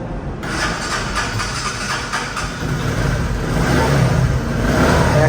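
A Bajaj Discover 125cc motorcycle engine runs steadily close by, a continuous mid-pitched hum that rises slightly in loudness toward the end, with no talking.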